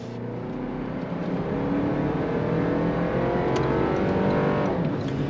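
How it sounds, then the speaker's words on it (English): A 2025 Toyota Land Cruiser hybrid accelerating hard, a steady, swelling engine and drivetrain drone heard from inside the cabin, building slightly in loudness throughout with no talking. "On throttle, here we go."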